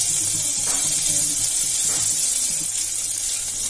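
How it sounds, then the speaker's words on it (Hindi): Ginger garlic paste frying in a pan for Bihari lafa saag, giving a steady, bright sizzling hiss that holds evenly throughout with faint low clatter beneath. "जो अदरक लहसुन थे उसका पेस्ट डाल रही हूँ। इसको थोड़ा सा भूनेंगे ब्राउन होने तक।"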